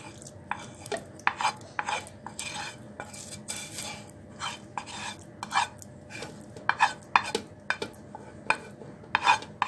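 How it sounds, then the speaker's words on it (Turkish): Cooled cooked rice is scraped and tipped into a blender jar in a kitchen, giving a run of sharp spoon-on-container clinks and knocks with soft rustling between them. The sounds are close and irregular, with no voices. "Şimdi bu soğumuş olan pirinçlerimi karıştırıcının içerisine aktarıyorum."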